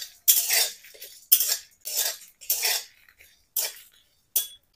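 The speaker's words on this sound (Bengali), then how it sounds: "এখন গোটা ধনে আর গোটা জিরে দিয়ে দেব। সব একসাথে নেড়ে নেব।" Whole coriander and cumin seeds dry-roasted in a pan for a jackfruit chop spice mix, with about six rhythmic scraping, rattling strokes of a spoon against the metal, each a short close burst separated by brief quiet gaps.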